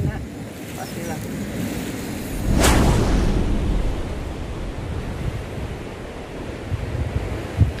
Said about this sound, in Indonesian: Hembusan angin dari lembah ke puncak yang membawa kabut seperti menciptakan sebuah gelombang terbang yang menakjubkan.